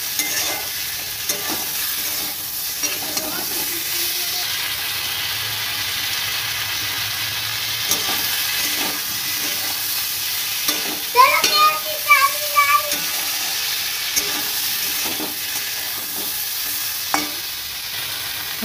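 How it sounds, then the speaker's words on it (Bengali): Potato and pointed gourd curry with turmeric, chili powder and green chilies sizzles steadily in a pan while repeated stirring strokes scrape through it, with faint voices briefly in the background. "এরকম ভালো করে কষিয়ে নেব।"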